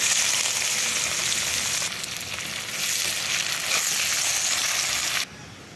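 Onion and bay leaves fry in hot oil for a fish besara, giving a steady, close sizzle with a broad hiss that shifts slightly as it is stirred, then drops sharply in level near the end.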